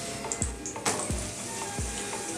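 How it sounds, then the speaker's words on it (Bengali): Dal puri fries in oil in a pan, a soft continuous sizzle with a few faint ticks and thuds, close and fairly quiet. "পরোটাটার একটা সাইড ভাজা হয়ে গেলে এটাকে উল্টে আরেকটা সাইড একটু ভেজে নেবে"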